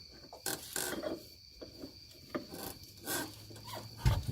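New, much thicker control arm bushings rub and scrape as they are forced into a snug gap between a Fox-body Mustang frame rail and torque box, giving short irregular rasping and creaking bursts up close with small metallic knocks.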